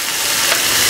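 Chopped onion hits hot oil in a pan for a curry, giving a loud, dense sizzle with a brief clatter of stirring.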